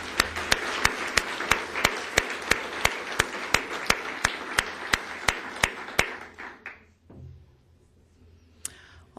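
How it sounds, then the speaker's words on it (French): Applause at a university leaders' gathering, a steady run of sharp, evenly spaced claps over a dense clapping wash for about six seconds, then fading to near quiet with a couple of stray claps. "Allez, on les applaudit un peu"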